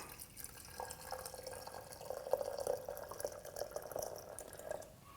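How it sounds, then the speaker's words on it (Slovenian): Boiled water is poured over herbal tea, giving a quiet, steady trickling and splashing of liquid that runs for several seconds with small drip-like accents, no voices. "No, voda je že zavrela, ta čaj bomo prelili."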